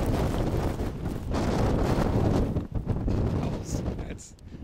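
Strong blizzard wind whipping through city streets and off buildings in Chicago's South Loop, a loud continuous roar with gusty buffeting against the microphone throughout.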